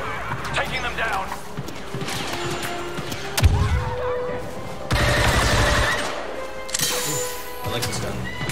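Blaster fire in Star Wars Battlefront II (2017), loud rapid volleys and bursts in quick succession along with impacts and crashes, mixed with game voices.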